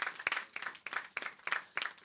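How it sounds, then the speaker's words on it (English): A small audience at a talk on marriage and relationships applauds, a fairly quiet patter of clapping with regular accented beats, as if some hands clap in rhythm. "I want everyone present here to give you a round of applause"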